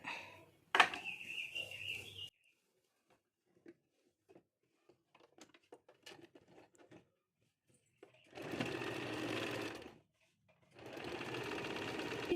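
A sewing machine stitches a kurti made from leftover cloth in several separate bursts: a short run at the start, then two longer steady whirring runs near the end, with quiet handling clicks between.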